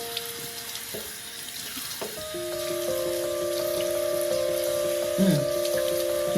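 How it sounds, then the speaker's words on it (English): Cold water runs from a bathroom tap into a sink, a steady hiss that starts faintly and swells as the flow opens up, with a brief splash near the end. "let me turn the cold water on now."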